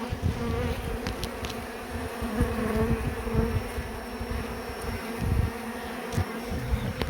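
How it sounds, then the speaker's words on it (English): Honey bees buzz densely and continuously around a hive being relocated from a chimney at Mount Prospect, a close, steady swarm drone with no talking. "I'm using it as a bait to entice bees out off the hive."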